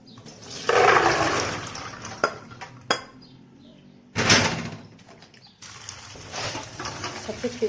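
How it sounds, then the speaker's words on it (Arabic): Soaked food is rinsed in a kitchen: water is poured and splashes in two strong gushes with a pause between, followed by lighter splashing, dripping and dish clatter close by. "حطيت كده الميه اللي كانت فيهم، هغسلهم مره واثنين وثلاثه واربعه"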